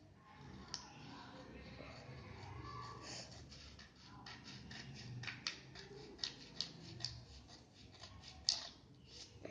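Scissors snip through paper while a paper helicopter is being cut out, a series of quiet crisp clicks and snips that quicken toward the end over a faint room background.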